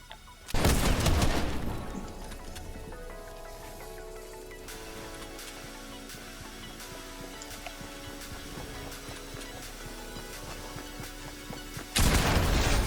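Rapid gunfire in a first-person shooter video game, with sniper shots among it: a loud burst of shots at the start, then a long stretch of steady crackling fire with repeated sharp cracks, and a fresh loud burst near the end.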